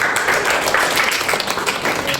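Classroom applause for group 2 during a lecturer's session, a dense, steady patter of many hands clapping, fairly close and continuous throughout.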